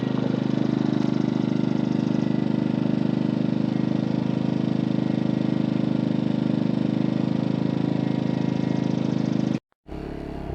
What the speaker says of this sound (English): let's go straight to low idle. Which is like the eco mode on the other one.